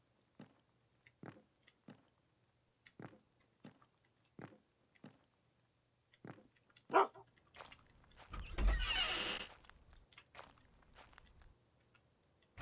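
Short footstep taps and a few dog sounds from the survival game UnReal World, with a brief louder burst of barking and rustling noise midway, all fairly quiet and without talk.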